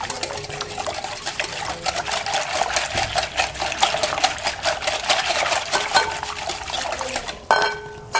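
Potato filling being stirred with coconut milk in a bowl, a continuous wet, rapid scraping and sloshing up close that stops abruptly near the end, with no talking.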